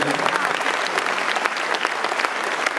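A crowd at a regional political rally in Levallois applauds a Paris district mayor, giving dense, continuous clapping at full volume throughout.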